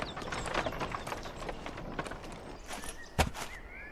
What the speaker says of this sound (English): A horse wagon was here.